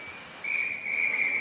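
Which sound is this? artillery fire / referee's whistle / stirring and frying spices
referee's whistle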